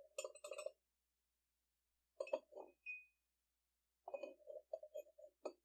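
A spoon clinks inside a handmade coffee or tea cup of iron-rich clay, giving three separate clusters of bright, ringing taps with quiet gaps between them, close and fairly soft.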